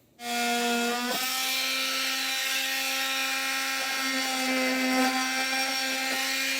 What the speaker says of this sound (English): I'm going to be using a multi-tool, but a pair of snips or even a Dremel will work just fine too.